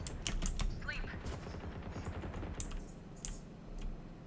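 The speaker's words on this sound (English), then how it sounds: "Listen, Justin, he's shooting through." Video game gunfire, scattered sharp shots and short bursts mixed with keyboard clicking, heard over a low steady background.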